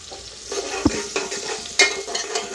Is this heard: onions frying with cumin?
yes